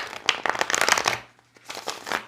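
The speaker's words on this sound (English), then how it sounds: "I'll shuffle on camera as well, especially for those new to tarot" Tarot cards are shuffled by hand close up, with a quick run of riffling bursts, a short pause, then another brief round of papery shuffling, with no talking.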